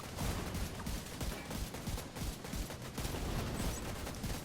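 Heavy overlapping gunfire from several players shooting the Weasel boss in the Division 2 Operation Dark Hours raid: a dense, continuous barrage of loud close shots with constant crackle and no clear pauses.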